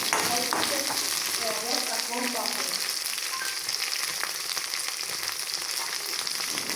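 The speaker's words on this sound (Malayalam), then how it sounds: "നമ്മുടെ വെണ്ടയ്ക്കെല്ലാം ഒന്ന് ഫ്രൈ ചെയ്തെടുക്കാം." Okra fries in coconut oil in a pan on a home kitchen stove, giving a steady crackling sizzle at moderate volume with brief clinks and stirring sounds early on.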